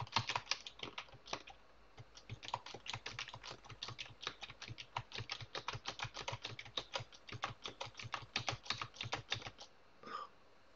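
Rapid typing on a computer keyboard, close and quiet, a dense run of individual key clicks in quick bursts that stops near the end.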